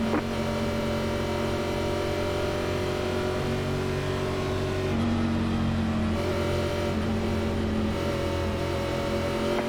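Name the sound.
NASCAR race cars accelerating at green flag, iRacing video game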